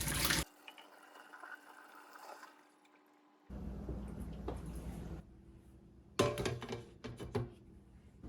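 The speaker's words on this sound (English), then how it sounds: "This time I'm going to remove the inner cap, as shown here, and pour all the water out." Water pours and splashes out of a coffee maker with the inner cap removed during descaling, in several bursts with gurgling pauses between, close and fairly quiet.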